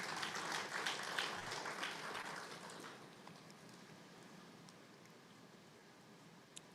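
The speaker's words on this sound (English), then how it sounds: "Another round of applause," At a business conference, an audience gives a round of applause that starts as a busy patter of clapping, then thins and fades to near quiet within a few seconds.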